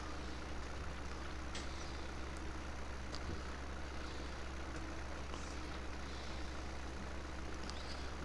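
A tractor engine in Farming Simulator 17, a Massey Ferguson farm, drones in a steady low rumble as it pulls, with faint higher clicks and tones scattered over the continuous hum.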